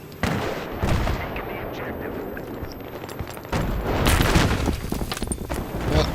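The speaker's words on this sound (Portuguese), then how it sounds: "Quase que eu me explodo com essa granada aí." Battlefield 3 multiplayer on the Strike at Karkand map: steady gunfire and explosions rumble throughout, with a denser burst of shots and a booming grenade blast in the second half.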